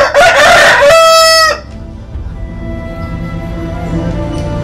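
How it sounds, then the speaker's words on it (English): A rooster crows once, loud and close, in a single drawn-out call lasting about a second and a half, followed by quieter room ambience. "and a rooster crowed"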